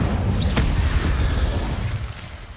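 Incendio fire spell cast in Hogwarts Legacy, a loud booming burst of flame with a crackling whoosh that trails off over a couple of seconds; no talking.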